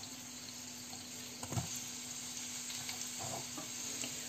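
Faint sizzle of zucchini cooking in a pan with a drop of oil, a low steady hiss under a hum, broken by a couple of soft clinks and stirring scrapes.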